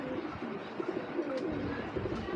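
Mehendi-necked racing Giribaz pigeon cooing in a steady run of soft, low, repeated coos against a constant noisy background, fairly close.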